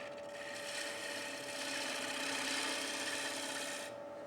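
A tool scrapes a wooden platter spinning on a lathe, giving a continuous rough rasping hiss that swells slightly and then stops abruptly, loud and close.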